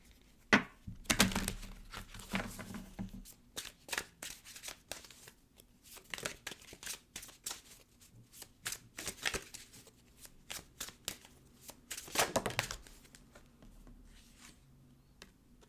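A Wisdom of the Tao oracle card deck is shuffled by hand, a series of quiet, crisp riffling bursts and soft papery flutters in irregular clusters, close and alone.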